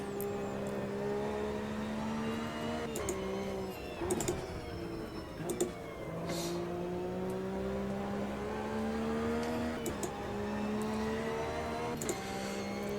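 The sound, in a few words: Porsche engine accelerating in video game Automobilista 2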